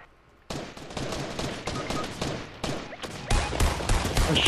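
Heavy gunfire rattles through a video game shootout, a dense, loud fusillade of rapid shots starting abruptly and continuing without pause, growing louder near the end.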